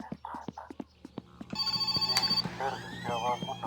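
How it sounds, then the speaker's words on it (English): Telephone ringing in the video game My Summer Car, a sustained electronic ring with a bright tonal buzz following scattered short knocks, heard indoors close by. "Oh, perfect timing. There's the phone."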